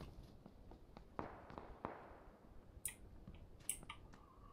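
Faint distant gunshots crack sporadically in a video game, several sharp isolated pops with a few brighter clicks, no talking over them.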